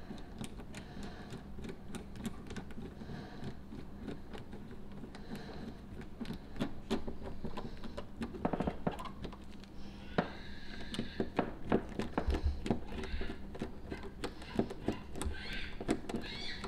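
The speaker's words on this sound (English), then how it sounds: "I'm going to take a hand screwdriver" A hand screwdriver tightens screws on a Kwikset SmartKey lever on an entry door, giving close, quiet, irregular clicks and small scraping ticks over a soft room background.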